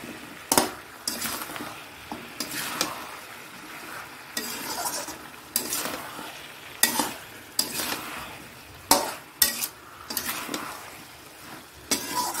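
Food is sautéed in a pan before going into a pressure cooker, with a soft sizzle under repeated scraping and clinking strokes of a spoon against the pan at an uneven rhythm.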